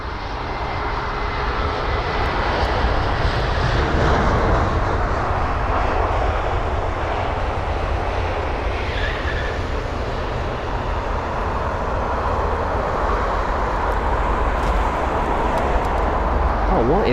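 A Logan Air ATR 42 turboprop roars through a fast departure from a busy airport, its engine noise loud and steady throughout with a broad rumbling wash that holds nearly constant.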